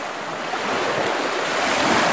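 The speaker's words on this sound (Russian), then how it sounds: "И на берег выбрасывают волны." Sea waves wash onto the shore at Sergeevka, where the water is green and full of seaweed, in a continuous hissing rush that slowly swells louder, with no voices.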